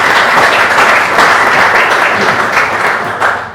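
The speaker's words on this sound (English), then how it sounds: "please give yourselves a round of applause." Loud, dense applause from a lecture audience, sustained clapping at full strength that dips briefly and swells again before fading at the close.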